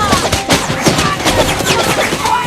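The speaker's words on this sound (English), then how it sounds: "That is an artillery barrage of snowballs." A dense barrage of snowballs thuds and smacks in rapid, continuous succession, loud and close like a volley of gunfire in the film Elf.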